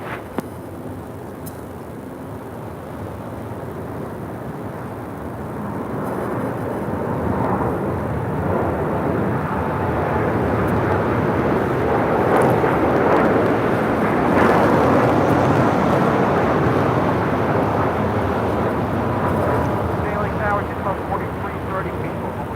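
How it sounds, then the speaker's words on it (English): An American Airlines Boeing 787-8 Dreamliner takes off from runway 25 right at LAX, its broad engine roar building after a few seconds and holding steady and loud, with people talking over it. "This is American Airlines Flight 27 taking off to Tokyo, Haneda on a 787-8 Dreamliner."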